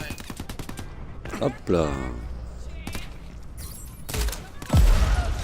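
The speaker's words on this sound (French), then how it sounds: "On vous tire dessus." Bursts of gunfire from the video game Crackdown 3 crackle in rapid volleys under and between excited talk, with a couple of heavier booms toward the end.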